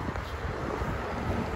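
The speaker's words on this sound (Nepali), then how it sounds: "यो चाहिँ एसीको उयो हो बाहिर चाहिँ तातो हावा फ्याल्छ" An air conditioner's outdoor unit blowing out hot air, heard as a steady close broadband whoosh with a constant fan roar and no pauses.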